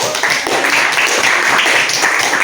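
A group of listeners at a teacher coaching session applauds, a short, loud, continuous patter of clapping that holds steady throughout.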